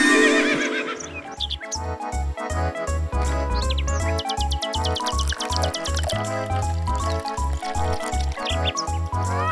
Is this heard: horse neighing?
yes